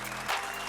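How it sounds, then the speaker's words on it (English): A short burst of studio applause for Jay Park in a radio studio, brief clapping at low level with a slight swell midway. "Give him a round of applause"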